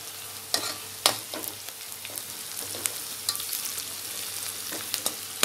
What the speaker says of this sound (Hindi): हमारी प्याज दोस्तों भून चुकी है, अब मैं इसमें मसाले ऐड करूंगी